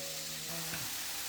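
Chicken fajita vegetables sizzle in a skillet, a soft continuous hiss of frying that holds steady and quiet for the whole moment.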